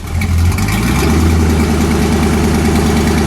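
The twin-supercharged V8 of a 2008 Koenigsegg CCX runs close and loud in a deep, throbbing idle whose pitch lifts slightly as the engine picks up, a steady rumble with no voices.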